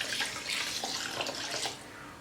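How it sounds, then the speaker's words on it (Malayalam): Basmati rice is rinsed in a bowl for egg biryani, with close splashing and swishing water for about two seconds before the sound eases off; no one speaks. "ഇനി അരിയിലേക്ക് വെള്ളമൊഴിച്ചൊരു 3-4 പ്രാവശ്യം നന്നായിട്ട് കഴുകിയെടുക്കണം"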